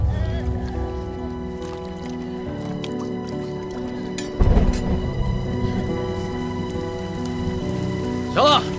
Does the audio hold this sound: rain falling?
yes